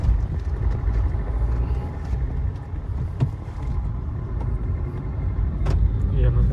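Steady road rumble from inside a moving car in city traffic, continuous low engine and tyre noise throughout with a few faint outside sounds, no talking.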